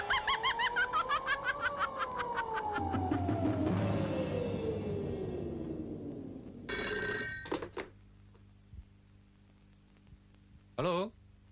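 A telephone rings in a 1988 Indonesian horror film, a loud rapid bell trill repeating for the first few seconds, followed by sliding tones, sharp stabs and other film sounds, with voices present.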